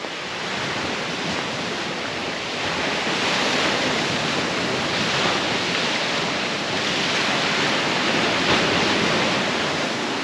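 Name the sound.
ocean waves at sea shore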